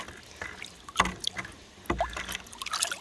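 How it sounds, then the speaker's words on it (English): A mossy rock rinsed in a bucket of water while panning for gold, giving a few close splashes and sloshes with brief trickles between them. "Rinse that moss off in there."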